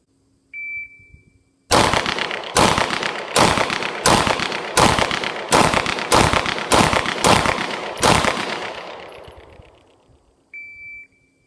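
Ten sharp shots from a Smith & Wesson M&P pistol fired in quick, fairly even succession at a range during a timed accuracy drill, loud and close, with brief beeps before and after the string.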